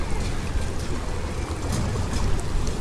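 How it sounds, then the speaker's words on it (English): Water running and splashing from park fountains and a splash pad at Lagoon Park, a steady broadband wash heard close and continuous with no talk over it. "Nice soothing sound of water."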